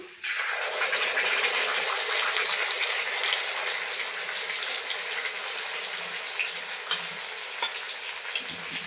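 Ground spice paste hits hot oil left from frying potatoes and erupts into a loud, bright sizzle that settles into steady frying, close up and with no talk.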